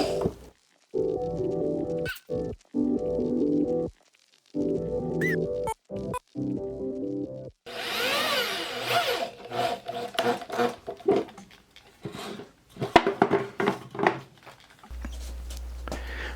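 A power drill drives 2.5 inch screws into a wooden bike stand, giving several close, loud whirring bursts with brief pauses between them, then a stretch of scraping and knocking handling noise.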